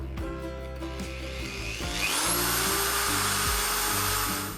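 A Vitals Professional electric drill whirs as it spins up from low speed to a loud, steady high-pitched running whine, its pitch rising as the trigger is squeezed harder.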